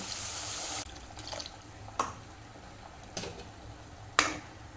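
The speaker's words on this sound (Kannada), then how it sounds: "ಇನ್ನು ಇದಕ್ಕೆ ಬೇಕಾಗುವಷ್ಟು ನೀರನ್ನು ಹಾಕ್ತೇನೆ" Water is poured into a cooking pan for an egg and tomato curry. There is a short, soft splashing pour, then a few faint clinks and taps in a quiet kitchen.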